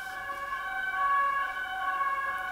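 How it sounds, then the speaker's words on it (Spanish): An ambulance siren wails steadily from outside a home, with layered tones holding at an even, moderately loud level throughout and no one speaking. "Siempre que grabo paso una ambulancia."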